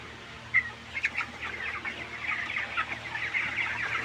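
Broiler chickens in a poultry shed cluck and murmur continuously, with a few sharper calls standing out over a low, steady background hum.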